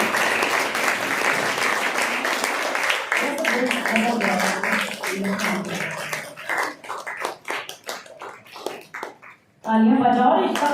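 Audience clapping at an appreciation ceremony in a college leadership programme, steady applause from a seated crowd that thins into scattered claps, with someone speaking over it and a louder voice at the end.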